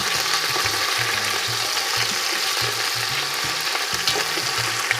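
Chunks of beef for boeuf bourguignon sizzle loudly and steadily as they brown in a hot pan, a dense continuous crackle with a soft, repeating mechanical rattle low beneath it.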